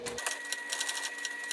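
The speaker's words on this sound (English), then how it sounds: "Take a stitch or two forward and then back stitch to lock in that stitch there." Brief burst of a sewing machine stitching forward and then back-stitching, a fast rhythmic rattle of closely spaced needle strokes, close and clear with no speech.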